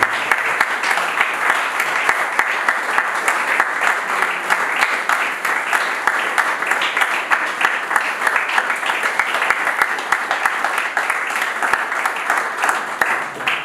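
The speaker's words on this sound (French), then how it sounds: "je vous demande d'applaudir pour Victorien Edamé" Long, steady audience applause welcoming a mayor to the stage, dense even clapping from a large crowd with occasional sharper claps standing out.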